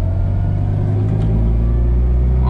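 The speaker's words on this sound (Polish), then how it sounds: "Dobra, dwójeczka, hamowanie silnikiem." A 1988 Polski Fiat 126p 650E, a small car weighing roughly 580–640 kg, engine braking in second gear: a steady, loud low engine drone and rumble that holds throughout with no break, and a slight rise near the end.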